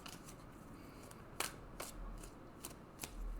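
A deck of cards is shuffled in a quiet room over a low background hiss, with a few soft, separate riffling snaps and flicks spaced irregularly, close but faint, and no one speaking.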